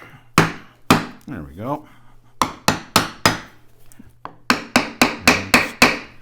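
Sharp, repeated taps against a Honda XL600R engine case to break a silicone seal, a series of close, crisp knocks in irregular bursts, with someone briefly speaking between them.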